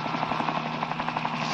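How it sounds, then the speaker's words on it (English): Helicopter rotor chop in an audio drama sound effect, a steady rapid thudding beat with broad engine roar, loud and continuous with no voices. "That helicopter must have just left the roof I'm heading for."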